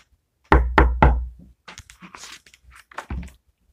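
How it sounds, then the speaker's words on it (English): Three sharp knocks on a door, close and distinct in a quick even rhythm, followed by faint shuffling and rustling and one more dull thump. "there was a knock at the door"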